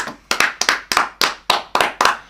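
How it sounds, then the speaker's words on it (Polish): Hand claps in a steady rhythm, about eight sharp, close claps evenly spaced with no other sound around them. "Duże brawa, duże du brawa."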